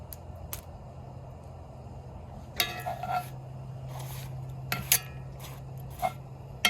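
A pan set down and shifted on a hot cooking surface for tortillas, a few sharp metallic clanks and scrapes over a low steady hum, close by.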